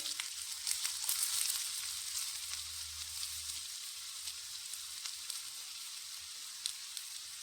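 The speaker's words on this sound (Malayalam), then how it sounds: "ആദ്യം നമുക്ക് സവാള ഇട്ട് കൊടുക്കാം അതിനുവേണ്ടി എണ്ണ ഒഴിച്ചു കൊടുത്തിട്ടുണ്ട്" Sliced onions sizzling in hot oil in a pan, a steady bright crackle throughout at moderate level with occasional sharper pops, heard alone without talk.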